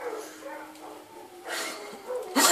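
Dogs barking in the video game Outbreak, a few short yaps and barks rising toward the end, fairly faint beneath game noise.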